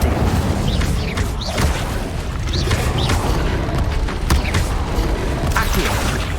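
An Incendio fire spell in Hogwarts Legacy, loud rumbling bursts and whooshing blasts within continuous gameplay noise, with creaks and booms layered over a dense, busy background.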